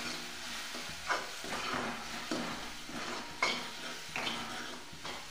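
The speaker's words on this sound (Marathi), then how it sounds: "तर याला व्यवस्थित मिक्स करून घ्यायचं 2 मिनिटं।" Chili powder, turmeric, salt and masala being stirred in hot oil in a pan for cauliflower bhaji, a steady sizzle with repeated scraping and clinks of a spoon against the pan, close and clear, no talking.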